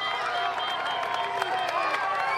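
Massive roadside crowds of fans at a Tour de France mountain stage, a steady wash of cheering, shouting and clapping, with a bright whistling tone running through it.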